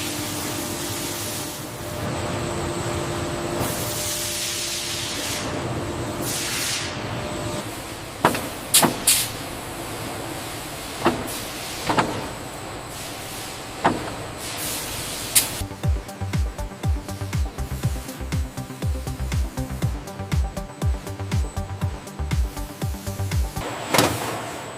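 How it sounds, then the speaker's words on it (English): A stabilizing spray is applied to shark leather panels in a shoe factory: long hissing spray bursts sound close and loud over a steady machine hum, followed by rapid mechanical clicking and thumping. "Initiating the stabilizing spray sequence now."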